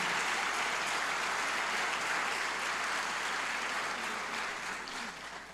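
Sustained applause from a church congregation during a sermon, steady and fairly loud throughout, tapering slightly toward the end, with no talking over it.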